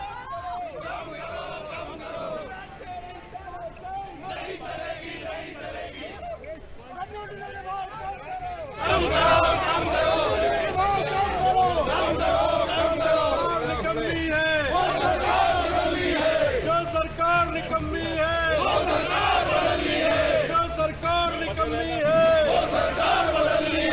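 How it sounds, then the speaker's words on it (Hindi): Congress members in the Madhya Pradesh assembly in Bhopal chant protest slogans over petrol and diesel prices. The chanting starts as a rhythmic group shout, then swells into a louder, dense crowd roar of massed voices. "महंगाई के विरोध में, पेट्रोल डीजल के बढ़ते दाम के विरोध में सदन में कांग्रेस ने जमकर हंगामा किया"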